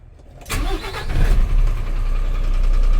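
A 2016 4.5-ton dump truck engine cranks and starts after a brief quiet moment, then settles into a steady, loud, rumbling idle close by.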